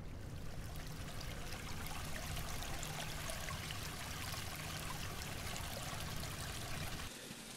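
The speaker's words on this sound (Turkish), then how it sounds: "Evet, su kaynağını bulduk." A steady rushing stream of water at a snowy winter campsite in sub-zero cold, close and continuous, trickling and gurgling without pause until it dips slightly at the very end.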